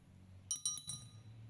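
Coins dropped one after another into a glass filled with water, giving a quick run of four or five bright, close glassy clinks over half a second against a quiet, low hum.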